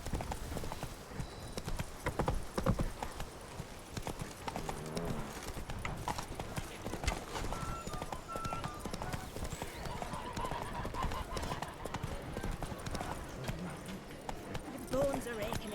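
Geralt rides the horse Roach in the video game Witcher 3, its hooves clip-clopping in a steady rhythm throughout, with game ambience and a voice talking over it.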